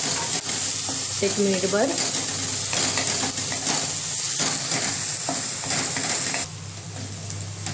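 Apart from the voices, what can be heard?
onion and garlic paste sautéing in pan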